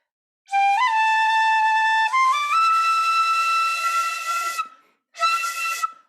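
A breathy, airy shinobue bamboo flute plays a few sustained notes with poor, strained, pushed tone, pauses briefly, then sounds one more short note.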